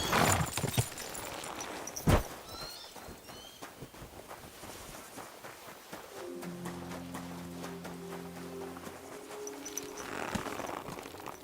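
Horse hooves clip-clopping in the video game Kingdom Come: Deliverance 2, a few sharp hoof knocks early on, then softer scattered steps amid birdsong, with a brief sustained tonal sound in the middle.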